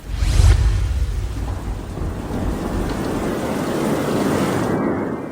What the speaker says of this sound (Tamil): பலத்த காற்று மற்றும் மழை பெய்தது.